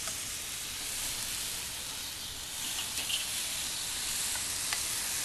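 Chicken pieces, including boneless breasts, sizzle on a charcoal grill, arranged in a ring around the coals: a steady, close hiss and crackle with occasional small pops, no voices.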